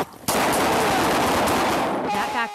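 Rapid gunfire bursts loudly through a police shootout in Arlington, a dense volley of shots filling nearly the whole moment with barely a pause.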